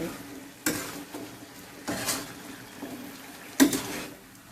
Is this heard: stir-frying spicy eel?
yes